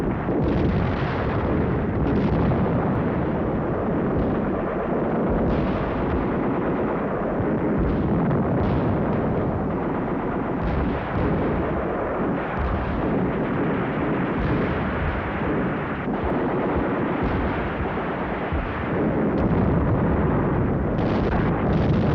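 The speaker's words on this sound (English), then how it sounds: "For 12 days, the hills echoed with gunfire." Battlefield gunfire and artillery explosions in the hills overlooking Tunis during the North African desert war of World War II form a dense, continuous roar of rumbling blasts and sharper bursts at steady loudness, with no voices.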